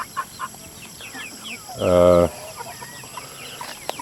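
Native chickens cluck softly in a pen in short scattered bursts, with one louder, drawn-out call in the middle against a quiet outdoor background.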